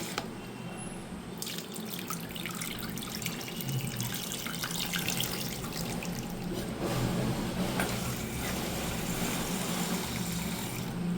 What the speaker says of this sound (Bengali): ভালো করে দুবার ধুয়ে নেব এটা, তাহলে আলুর যে রঙের যে কষটা পুরো পরিষ্কার হয়ে বেরিয়ে যাবে